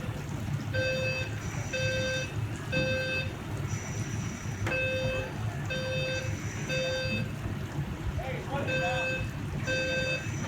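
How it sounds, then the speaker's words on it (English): A smoke alarm beeps in repeated short bursts of high tones over a loud, steady rumble of background noise, with voices faintly mixed in, during a fire department burn demonstration. "the smoke alarm over here is now going off"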